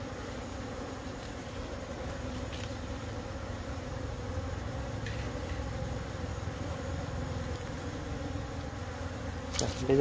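Honeybees buzzing around a hive frame as a weak colony is tended, a dense continuous drone close by with a few sharp knocks and handling clicks.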